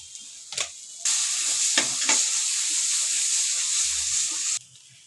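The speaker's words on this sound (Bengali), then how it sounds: "যতক্ষণ না তেলটা ছাড়ছে মশলা থেকে ততক্ষণ মশলাটা কষিয়ে নেবো।" Spice paste for a Bengali prawn malai curry frying in oil bursts into a loud, bright, continuous sizzle lasting several seconds, preceded and followed by a few spatula scrapes, with no talking.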